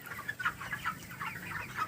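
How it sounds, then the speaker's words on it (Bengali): Chickens squawking and clucking inside a poultry farm while a snake has got in, a nervous chorus of overlapping agitated calls from several birds at moderate distance, with no voices. "মুরগিগুলো চেঁচাচেঁচি করছে"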